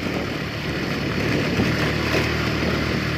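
A Rusi motorcycle engine runs at a steady drone, close and loud, on a solo long-distance ride, with a continuous rough hum and no talking.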